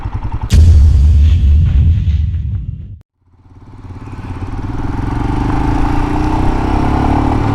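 Royal Enfield Himalayan motorcycle throttling up on a 70 mph highway, its single-cylinder engine droning loud and close with heavy wind rush, a brief drop near the middle as the throttle eases, then rising again.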